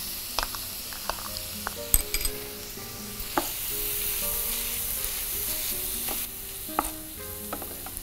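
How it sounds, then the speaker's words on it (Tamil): A potato and onion stuffing with ginger-garlic paste is sautéed in a pan, soft sizzling under repeated spatula scrapes and clinks against the metal, close and intermittent, with no one speaking. "அதனால் கொஞ்சம் லேசாக வதக்கிக்கணுன்றதுக்காக தான் இந்த ஸ்டஃபிங் நான் வதக்குறேன்"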